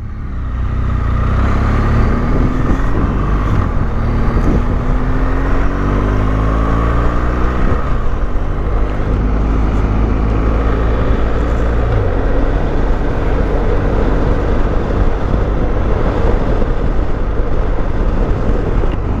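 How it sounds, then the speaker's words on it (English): Motorcycles pass on the road as heard from a moving bike, their engine tones rising and falling over loud, constant wind roar, with no talk. "Loads of bikes out today."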